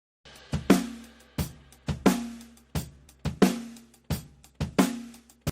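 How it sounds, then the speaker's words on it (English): A snare drum run through an EQ in linear phase mode strikes seven times at a steady pace, each hit sharp and crisp with a short ringing body. The hits are close and loud, with no other sound between them. "watch what happens if I put it into linear phase mode"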